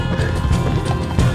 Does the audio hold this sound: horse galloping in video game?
yes